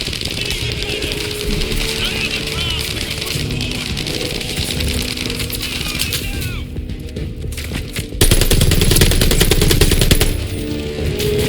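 Rapid machine gun fire in Call of Duty Vanguard's battle against a half-track, a dense, loud rattle of bursts that goes on throughout, briefly thins out, then surges louder again amid the clamour of combat.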